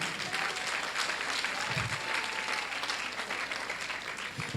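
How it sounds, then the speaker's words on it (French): A church congregation applauds the newlyweds of 2020 with sustained, dense clapping from a large crowd, steady throughout and moderately loud. "On acclame pour les mariés de 2020."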